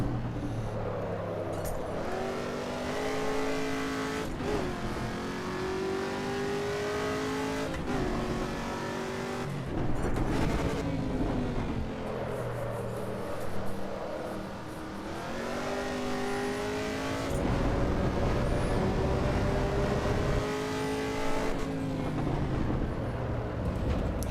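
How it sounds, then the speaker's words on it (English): A car in the racing game AC EVO drifts and drives along, its engine revving up and down loudly and continuously, with gear changes, tire squeal in places and no talk. "just, you know, drifting and driving normally like this"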